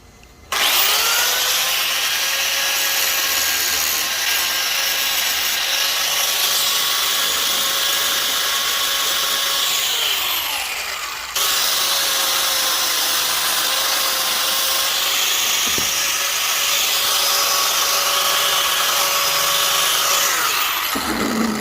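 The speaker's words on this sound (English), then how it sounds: "So I'm gonna grind out some of this so I don't cut into the boot" A power grinder cuts away metal on a part for a Mazda ND Miata ball joint clamp, a loud, steady high-pitched whine held for about ten seconds, briefly dipping, then running steadily again before stopping.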